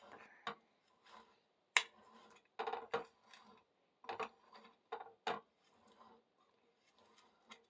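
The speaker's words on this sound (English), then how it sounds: "start just cutting it up into little pieces till it's just finally diced up" A knife dices vegetables on a cutting board for a pork burrito bowl, making soft, scattered chopping taps and light scrapes, faint and irregular, with no talking.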